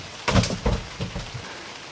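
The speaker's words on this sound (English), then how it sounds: "Probably hear it's raining out." Steady rain falls outdoors near a Bayliner boat, a soft hiss of drops with a few louder patters and thumps standing out over the first second or so.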